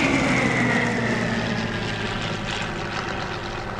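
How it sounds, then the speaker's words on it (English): A Hawker Hurricane WWII warbird flies past at an air show, its propeller engine a loud, steady roar with a slowly falling pitch as it passes. "Here comes a Hurricane from the left."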